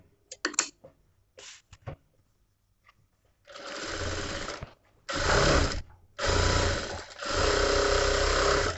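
A sewing machine runs a loose basting stitch on a katori blouse: a few short clicks and brief runs at first, then four longer, loud bursts of stitching separated by short pauses.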